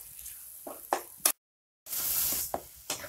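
Mashed fire-roasted eggplant with tomato frying in a pan for baingan bharta: a steady sizzle with occasional clinks of stirring, a short dropout, then a louder hiss as frying resumes, close and moderately loud.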